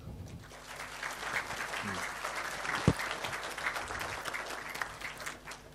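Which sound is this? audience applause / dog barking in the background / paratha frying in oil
audience applause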